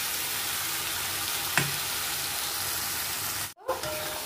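Spice paste with turmeric and salt poured into a hot pan of yam curry, giving a steady close sizzle throughout with a brief splash and stir scrape near the end.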